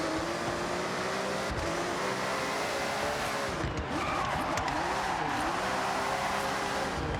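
A Ferrari driven in Forza Horizon 6, its engine holding a steady, loud drone that rises and falls in pitch with gear changes and revs, with faint tire noise near the middle and no talk over it.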